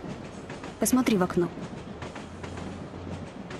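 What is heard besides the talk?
riding on a train, wheels clacking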